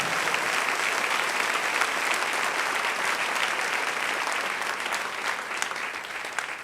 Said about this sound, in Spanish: Dale un aplauso al Rey en esta preciosa y hermosa mañana.